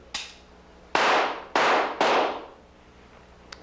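Three loud, closely spaced gunshots from a handgun indoors, each a sharp crack with a short decaying tail, preceded by a fainter click and followed by a small tap.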